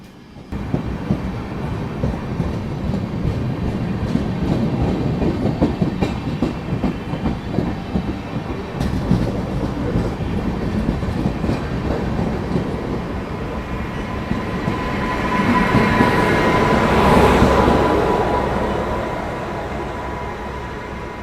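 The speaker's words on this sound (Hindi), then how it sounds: "ट्रेन जो है वो इतनी स्लो रफ्तार में चल रही है" A special train on the Delhi to Prayagraj run rolls along slowly, with steady clickety-clack of wheels over rail joints and a rumbling carriage that swells louder toward the end; no voices.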